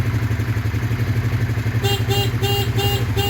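An old black Honda CBR 150 motorcycle idles close by with a steady low pulsing engine throb, joined partway through by a repeating high electronic beeping.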